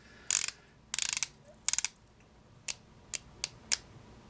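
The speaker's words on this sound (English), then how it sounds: "And then that bezel action we talked about. I mean, it's not 120. It's only 60 clicks." Rotating bezel on a Citizen Eco-Drive ProMaster BN0190 diver watch turned in quick bursts of ratcheting clicks, then single sharp clicks, close and crisp against a quiet background.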